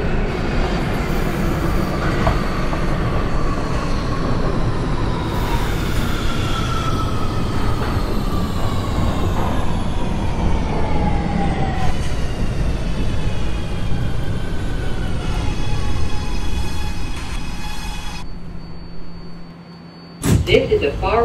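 An R211A A train subway running toward Far Rockaway in the OpenBVE simulator, a steady rumble with rising and falling motor whine and rail squeal, doors chiming near the end, with an automated announcement voice over it.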